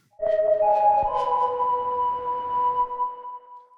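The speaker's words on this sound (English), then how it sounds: "Let's get that delay going." Several plucked synth tones in a lofi indie R&B track, heavily compressed, ring out and repeat in echoing delays that sustain and slowly fade, layered into a humming tonal wash.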